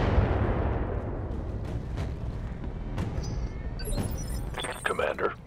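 Mech weapons fire a split shot in the BattleTech video game, heavy booming blasts and rumbling impacts that stay loud throughout, with sharper metallic crashes near the end.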